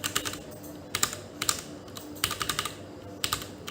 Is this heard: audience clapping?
no